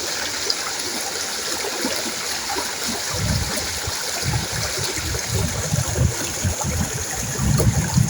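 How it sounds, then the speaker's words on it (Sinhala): Water of the Kumbuk Oya stream flowing over rocks: a continuous close rushing and gurgling, steady throughout with slightly heavier burbling in the second half, and no talking. "ලස්සනට වතුර බැහැගෙන යනවා"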